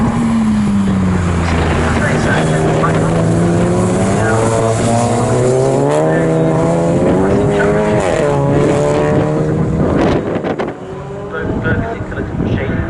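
A 750MC Enduro race car at Snetterton roars past, its engine note sweeping down in pitch as it goes by, followed by further loud engine drone and a second passing car, with commentary running over the top.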